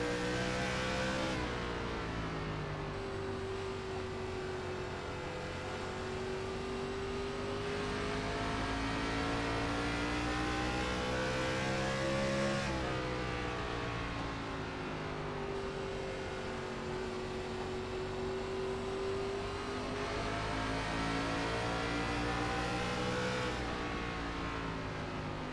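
Onboard view from a 900hp super late model race car at Richmond, its engine roaring loud and steady with rising and falling revs through laps, two long pulls each easing off briefly before climbing again.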